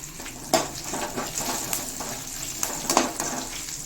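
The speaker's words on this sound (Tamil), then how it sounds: "நல்லா ஃப்ரெஷ்ஷான கருவேப்பிலை ஒரு கட்டு, அப்புறம் பெருங்காயப்பொடி இந்த எண்ணெயிலே போட்டோம்னா நல்லா பொரிஞ்சிக்கும்" Fresh curry leaves and asafoetida powder splutter in hot oil, giving a crackling sizzle with a few sharp pops and spatters over a steady hiss; no voices.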